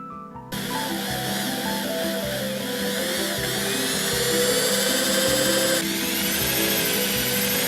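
A power tool drives bolts and screws into a homemade bicycle trailer, its motor whining loudly and continuously at close range, with the pitch rising slightly as the fastener tightens.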